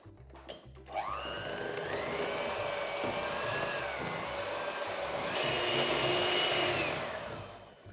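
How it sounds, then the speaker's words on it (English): An electric mixer whirs steadily as it beats butter with light brown sugar, its motor pitch rising slightly midway, close and loud with no talking. "I'm going to mix this together now till it's nice and light and soft and fluffy"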